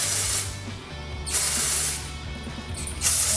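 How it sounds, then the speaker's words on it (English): Dry shampoo is sprayed at the hair roots in three distinct hissing bursts, each about a second long, close to the microphone, with quieter pauses between them and no talking. "So what I'm going to do is just lift my hair and I'm spraying right at the root."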